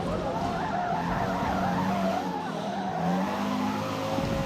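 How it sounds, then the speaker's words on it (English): Audi Quattro tires screeching in the Forza Motorsport racing game, a continuous squealing slide layered over steady engine drone, loud and sustained throughout with shifting pitch. "I hear those tires screeching."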